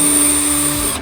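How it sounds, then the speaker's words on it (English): Power drill with a 5/64 bit boring a pilot hole for a Ford Super Duty LED tail light install, a steady close whine with a high tone, running continuously and then stopping abruptly near the end. "we're going to use a 5/64 bit to drill a pilot hole"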